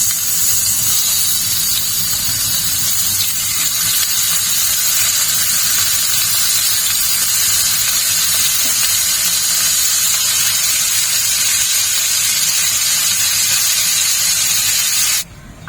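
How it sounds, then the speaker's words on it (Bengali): Salted hilsa fish frying in oil in a wok gives a steady, loud broadband sizzle and hiss that runs unbroken for about fifteen seconds, with no voices, and cuts off abruptly at the end. "দেখো বন্ধুরা কড়াই একদম তেলে গেছে এখন মাছটা একটু ভেজে নিই"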